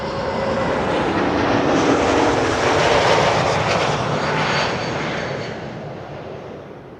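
A JetBlue Airbus A321neo arriving at Amsterdam Schiphol on the Kaagbaan runway roars loudly overhead as a broad, steady jet rumble that builds, holds, then slowly fades.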